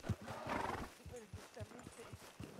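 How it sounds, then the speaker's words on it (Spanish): Horse in the video game Red Dead Redemption II whinnies loudly and close, then its hooves clip-clop in a steady rhythm, with people talking quietly over it. "Epa, el caballo."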